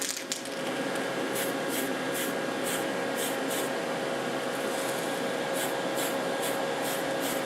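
Spray paint hissing onto a Tamiya 1/14 R/C King Hauler truck body for a third coat, a steady close aerosol hiss broken by short bursts.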